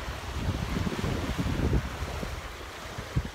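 Surf on the narrow beach at Sandy Bay in Hobart, Tasmania rolls in as a continuous close wash, with low wind rumble and small bursts of breaking water.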